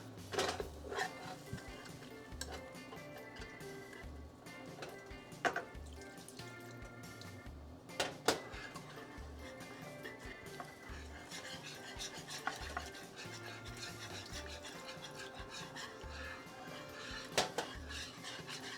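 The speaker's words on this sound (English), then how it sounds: "we're just going to keep mixing it and mixing it until it's nice and smooth" Brown gravy is stirred in a pan until smooth, with a spoon or whisk scraping and clinking against the metal in a fairly regular rhythm, quiet and close, over faint background sound.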